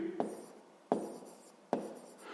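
Someone writes out a math solution with three quick, faint scratching strokes spaced evenly apart in a quiet room.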